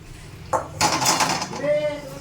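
Plates and utensils clink while fish from a potato fish curry is served onto a large plate, a short burst of close ceramic and metal knocks over a brief murmur of speech.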